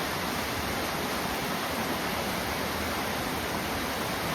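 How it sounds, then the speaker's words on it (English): Wailing Widow waterfall: a constant broadband roar of falling water, steady and fairly loud with no variation, and no voices over it. "that is the Wailing Widow waterfall."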